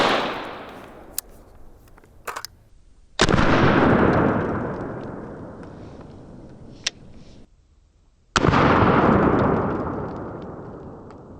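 An AR-15 rifle fires .223 rounds at body armor at close range, giving two loud, sharp shots a few seconds apart, each followed by a long ringing decay, with a faint click and rattle in between.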